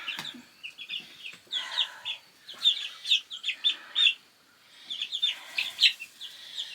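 Sixteen young homestead chicks chirp and cluck in quick, bright bursts, a busy close flock calling over and over with a short lull near the middle.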